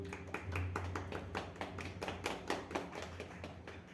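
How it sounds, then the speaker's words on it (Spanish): A small group claps at the close of a live talk about eating disorders, fairly quiet and close, with distinct individual hand claps in an uneven rhythm over a low background hum. "Un aplauso, por favor."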